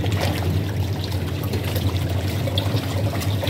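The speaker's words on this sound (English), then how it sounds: "I'll let it spin first before putting in my clothes." Hisense washing machine drum spinning with water and detergent inside before clothes are added, giving a steady, loud churning and sloshing wash of water close by.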